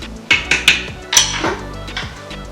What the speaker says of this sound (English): You'll want to give it a quick stir, get all the ingredients incorporated together